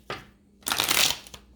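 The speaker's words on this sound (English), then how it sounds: "Last shuffle." A deck of tarot cards is shuffled by hand, a brief riffle followed by a louder, longer burst of crisp flapping card noise and a final soft tap, close and unaccompanied by speech.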